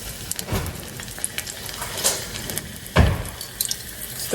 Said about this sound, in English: So put a piece of garlic in your oil right when it just about comes up to temp, and just let it stir around in there.